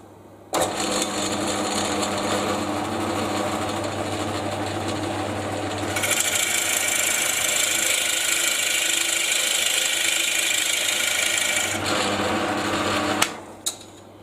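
Drill boring a 38 mm hole into the top of a wooden crank mill, a loud steady whirring grind that runs continuously for over ten seconds, intensifying midway and cutting off near the end.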